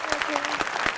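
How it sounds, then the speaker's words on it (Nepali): An audience applauds dancer Khushi Karki after a Tamang Selo dance, a brief burst of loud, close clapping with individual claps standing out. "थाइल्यान्ड बासी नेपाली चेली खुशी कार्कीका लागि फेरि पनि जोरदार ताली"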